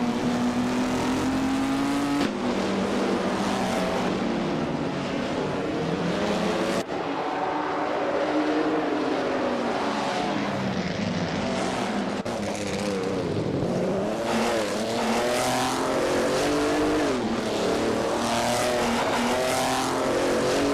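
Race cars roar around a track in a video game, engines whining and shifting pitch continuously as they rev, pass and change gear, loud and sustained throughout.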